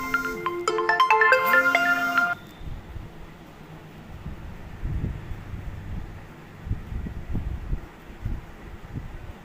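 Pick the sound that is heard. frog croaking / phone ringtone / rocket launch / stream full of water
phone ringtone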